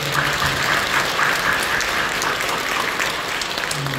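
A church congregation gathered for a Christmas worship service breaks into steady, sustained applause that fills the hall throughout, dense clapping with a few faint voices beneath it.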